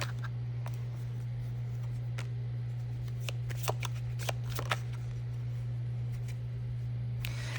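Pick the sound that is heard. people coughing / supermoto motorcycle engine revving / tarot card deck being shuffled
tarot card deck being shuffled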